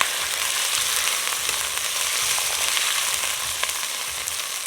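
Onion and hot pepper frying in a pan, a steady close sizzle with crackling pops throughout and no talk.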